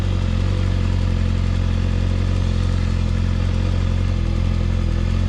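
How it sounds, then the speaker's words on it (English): A motorcycle pulling away in first gear as the clutch is released slowly, a loud, steady close-up engine drone with clattery mechanical texture throughout. "letting the clutch go slowly until you feel like the bike is moving"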